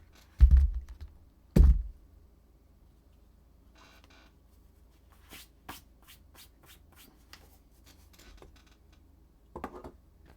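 A computer keyboard set down with two heavy knocks, followed by scattered, sparse key taps and light handling noises, close and quiet with long gaps.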